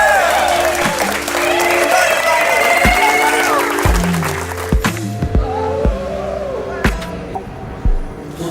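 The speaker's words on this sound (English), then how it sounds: "I think we need an applause for this one." Wedding guests applauding at a destination wedding reception in Dubrovnik, a sustained crowd clap under music and a speaker's voice, with scattered thumps later.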